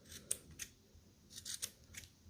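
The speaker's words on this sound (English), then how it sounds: "you're going to just start cutting until everything is nice and leveled and even at the bottom" Scissors trim the loose threads at the bottom of a handmade tassel keychain, with a handful of crisp, quiet snips spaced irregularly and a soft rustle of thread between cuts.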